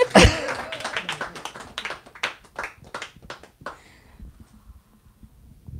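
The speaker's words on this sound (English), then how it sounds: "Okay, everyone can clap." Audience at a literary reading and conversation event clapping in a burst of applause that starts strong and thins out to scattered claps before fading to quiet room tone.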